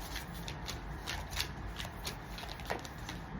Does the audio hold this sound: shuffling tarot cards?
yes